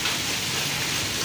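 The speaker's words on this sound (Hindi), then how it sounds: "ये बहुत ज़्यादा तूफ़ानी और बर्फ़ानी जो है वो बारिश है" Heavy stormy rain mixed with hail pounds down in a Pakistani village, a dense, loud, unbroken roar that fills the whole short stretch with no talking.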